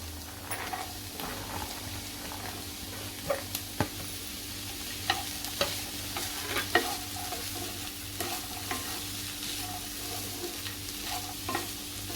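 Raw corn kernels stir-fried in a pan for vegetable macaroni pasta: a steady low sizzle with frequent light clicks and taps of a spoon against the pan throughout, close and moderately loud.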